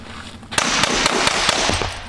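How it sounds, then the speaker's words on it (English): A Hi-Point 9mm carbine with a prototype suppressor fires 147-grain subsonic rounds: about seven sharp, muffled reports in quick succession over a noisy outdoor background. "High Point carbine with a prototype Q Erector 9mm silencer, shooting 147 grain subsonic loaded by T9 bullets."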